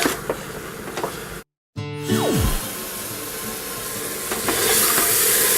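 Peas and potatoes hit hot spice masala in a pan and set off a loud steamy hiss after a brief silence, the frying roar holding steady and swelling slightly toward the end.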